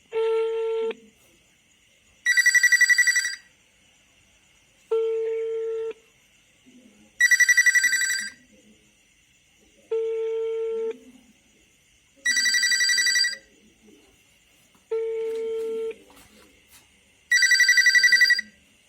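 A SIM-card Wi-Fi router used as a landline rings through a phone: loud, close ring bursts about every two and a half seconds, alternating between a lower tone and a brighter, buzzier one, eight bursts in all.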